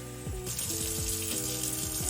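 Tap water runs steadily into a container at a sink, a continuous hissing pour with faint gurgles and small knocks throughout, fairly close.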